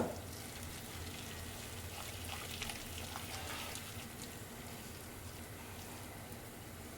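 Corn fritter batter sizzling in hot oil in a home kitchen, a steady dense crackle of frying holding at an even level from start to finish, close and continuous, with no voice over it.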